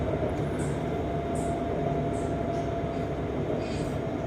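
An elevated MRT Blue Line train runs along Charan Sanitwong Road in Bangkok with a steady, loud rumble and hiss of wheels and motors that holds evenly throughout, with no pauses.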